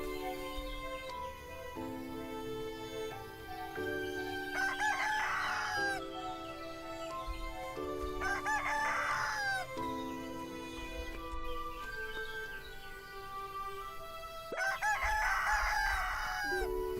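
Rooster in the farming video game Everdream Valley crowing three times at regular intervals over continuous background game music.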